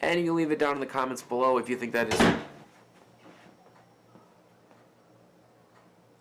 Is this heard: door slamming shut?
yes